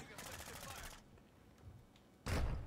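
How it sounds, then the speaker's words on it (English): Video game gunfire: a rapid burst of shots rattles for nearly a second, followed by a quieter lull and then a sudden, louder blast of fire near the end. "Yo, stop shooting me"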